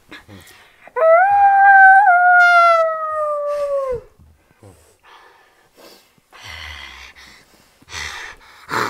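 A person imitates a wolf's howl during a theatre studio acting exercise, one long rising and sustained vocal howl of about three seconds, loud and close, followed by quieter breathing and shuffling.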